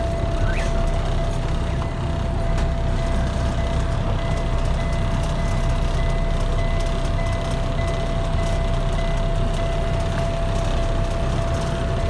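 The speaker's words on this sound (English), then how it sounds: "go ahead and start the truck up" A class A truck's engine runs steadily while its air brake tanks fill, a dense low rumble with a constant high whine over it, close and loud throughout, with no voices.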